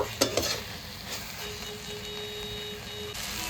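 Rice pumpkin frying in a pan with ghee gives a steady, low sizzle across the whole stretch, with a couple of brief stirring clinks near the start and no voices.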